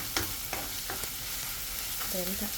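Spiced chicken coated in roasted chili powder and pepper fries quietly in a pan, a soft sizzle punctuated by a few sharp stirring scrapes, with no talk.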